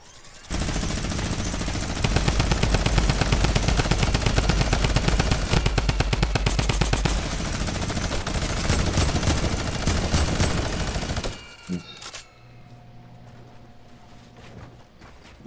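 Rapid automatic gunfire in the video game Fortnite, loud and sustained bursts for about ten seconds, then stopping abruptly and leaving quieter game ambience.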